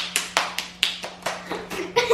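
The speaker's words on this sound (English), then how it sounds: "the kids would like to show you their hand clapping game" Children play a hand clapping game at home, with about ten crisp, close claps and slaps in a quick, slightly uneven rhythm and a brief voice near the end.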